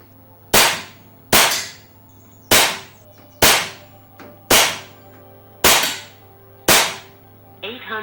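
An Air Venturi air gun fires slugs, seven sharp loud cracks at roughly one-second intervals, each with a short decaying ring, followed by a faint mechanical click at the end.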